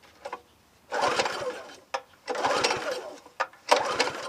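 Small gas engine on a log splitter being pull-started, with three bursts of rough, rasping cranking and sputtering separated by short pauses, fairly close and moderately loud.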